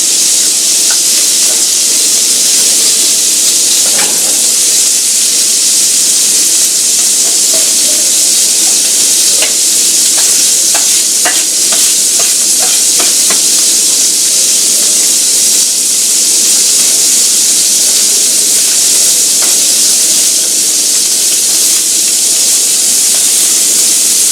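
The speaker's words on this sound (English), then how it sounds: "So we're not cooking this, we're just browning it" Beef pieces browning in a hot pan for a goulash, giving a steady, close, loud hiss and sizzle throughout, with occasional scraping and stirring clicks from the utensil and no talk.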